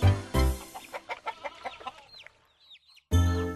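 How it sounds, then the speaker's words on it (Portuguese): A rooster crows loudly up close at the start and again at the end, with a run of chickens clucking in short, rhythmic bursts between the crows. "todos os dias acordam com os gritos do galo"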